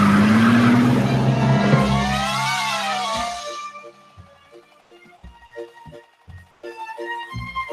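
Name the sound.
cartoon bear riding a motorcycle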